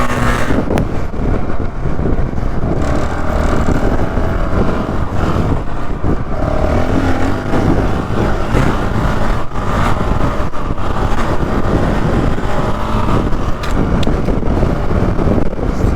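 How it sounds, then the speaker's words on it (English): A 2019 Honda CRF450L dual sport motorcycle being ridden, its engine a steady broadband drone buffeted by heavy wind rush across the mic, continuous and loud throughout. "So this bike really does suit my style of riding."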